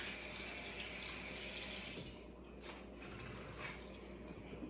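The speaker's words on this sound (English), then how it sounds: "so I'm gonna wash my hands real quick again" Hands being washed under a running kitchen tap, heard up close as a steady rushing stream that changes and splashes as hands move through it, with no talking.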